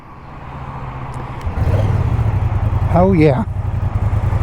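A 2023 Moto Guzzi V100 Mandello, rated around 115-120 horsepower, pulls away as the rider sets off: a quiet idle swells into a loud, close engine drone, with a brief voice over it.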